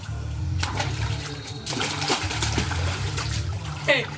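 Water splashing and churning as a person ducks fully under, a close burst of sloshing and dripping with scattered splats and a sharper splash near the end, alongside voices.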